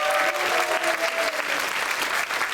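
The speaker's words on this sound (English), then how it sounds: "Let's give them a round of applause." An audience at a spring demo day competition claps in sustained, dense applause that stays loud and even throughout.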